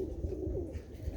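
White racing pigeons cooing softly inside a loft, a low continuous burbling murmur heard close up over a short stretch.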